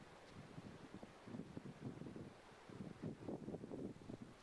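Steady wind buffeting outdoors in the High Pyrenees of Spain, a low rumbling gusty roar that rises and falls, with no voices.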